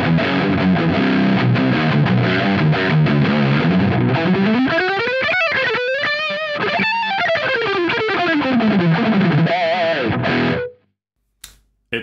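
Electric guitar through a BOSS Mega Distortion pedal set for a metal tone, distortion near 12 with a touch of gain boost: loud, saturated chords and sliding, bending notes ring steadily on their own, then cut off abruptly near the end.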